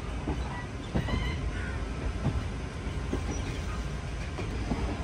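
Venkatadri Express rolling on curving track near Kachiguda, a steady rumbling wheel-and-rail roar with faint rhythmic clacks and a few crow caws in the distance.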